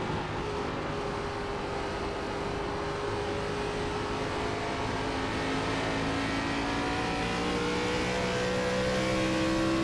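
A race car engine in the iRacing sim at Gateway drones steadily, holding a continuous mid-pitch roar that slowly shifts in tone as the car runs laps, with no talking.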